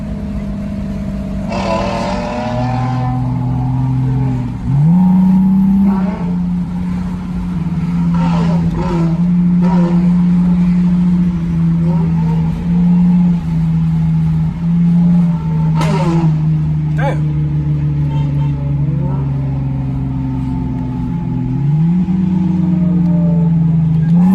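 Loud, close engines of a Lexus IS300 and a Dodge Challenger rumble and rev repeatedly, with several sharp throttle blips, pops and bangs, and a sustained growl throughout.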